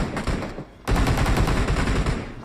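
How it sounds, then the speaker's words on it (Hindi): Gunfire in the mobile battle royale game BGMI erupts in rapid, dense automatic bursts, loud and close, with a short lull before a sustained stream of shots. "अब देखो इधर उधर बगल वगैरह में बहुत गोली चल रही होती है।"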